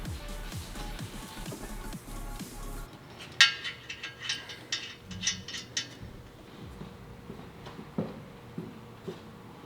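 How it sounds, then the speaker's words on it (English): Header nuts being tightened onto exhaust studs on a Lexus IS F during a SIKKY header install: light metallic ratcheting clicks and clinks in short bursts, close and fairly quiet, after a low rumbling stretch. "So just kind of snug them up so the header doesn't fall off the studs."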